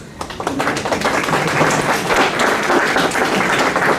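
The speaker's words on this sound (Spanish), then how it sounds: "Palmas, por favor" Applause from a conference audience, steady dense clapping that swells and holds loud throughout, close and filling the room.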